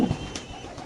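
A baby dragon pigeon gives a brief, soft coo right at the start, close by, followed by quiet murmur and faint background noise in a market setting.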